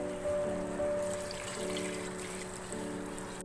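Water poured into a pan of mutton karahi cooking on high flame, a steady soft trickle and splash against a low hum of background noise, with no talking.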